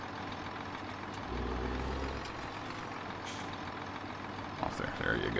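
A big truck in Farming Simulator 17 rumbles at idle with a low, steady engine drone, a hiss of air brakes near the end, and a voice talking over it.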